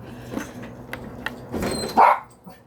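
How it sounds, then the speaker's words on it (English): Pet dogs at home bark a few times, short yaps and a louder burst near the end, fairly close in a quiet room. "now we got the dogs barking"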